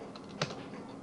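A single quick tap on a computer keyboard while a username and password are entered, faint against a quiet room hiss, with no talking.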